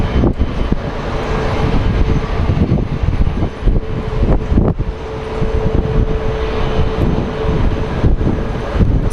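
Airliners at Sky Harbor International Airport, heard as a steady, loud broadband jet engine roar with wind buffeting the microphone, sustained throughout without speech.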